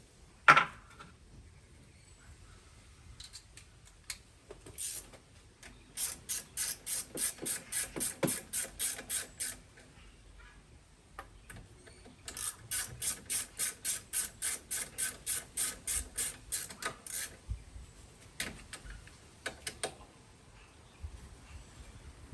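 A socket ratchet tightens size 8 bolts on a Toro Recycler lawnmower engine during an engine swap. Two bursts of rapid, even clicking sound close by, separated by quieter handling noises.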